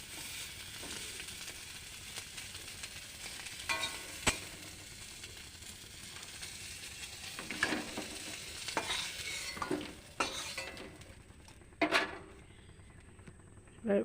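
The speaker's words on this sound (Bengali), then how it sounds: "চলে জাস্ট একটু নেড়ে নিই হালকা করে।" Food is stirred lightly in a pan over a soft sizzle, with intermittent scraping and clinks of a utensil against the pan, close by and fairly quiet, under occasional speech.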